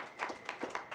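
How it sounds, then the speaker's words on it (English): An audience applauds at a talk. The clapping is short and fairly faint, with a few distinct claps over about a second. "let's have a round of applause for that"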